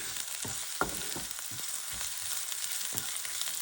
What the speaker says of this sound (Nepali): प्याज यतिको फ्राई भइसकेपछि अब अदुवा र लसुन राखेर फेरि पनि यसलाई एकैछिन फ्राई गर्ने।